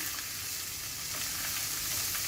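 Raw mixed vegetables fry in a pan for aloo tikki, giving a steady, dense sizzle that crackles continuously and close by with no pauses.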